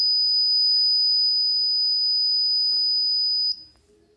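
An ESP8266-based parking sensor buzzer gives a loud, steady high-pitched tone that holds for about three and a half seconds and then cuts off, leaving faint room noise.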